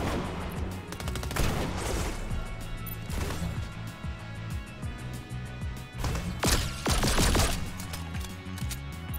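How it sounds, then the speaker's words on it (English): Pistol fire in the Fortnite video game: sharp, loud shots ring out in irregular bursts over a dense game soundscape with background music, with several clustered cracks near the middle and end. "Perfect opportunity to use this bloody pistol."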